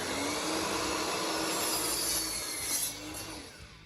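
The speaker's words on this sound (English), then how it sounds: "then cut these at a 45-degree angle" A saw makes a 45-degree cut through a small strip of scrap plywood. The whine is loud, steady and close, and fades as the cut finishes near the end.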